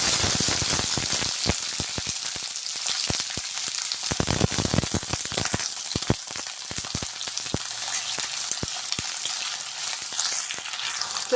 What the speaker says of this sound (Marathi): आता आपण गवार टाकून घेणार आहोत.